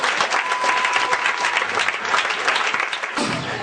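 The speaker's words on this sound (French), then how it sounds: "Oh Dieu, par ton sang, au nom de Jésus, acclame le Seigneur." A church congregation breaks into sustained, loud applause, a dense wash of clapping that carries steadily for several seconds before easing slightly at the end.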